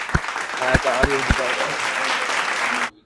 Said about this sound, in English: Round of applause for the homie.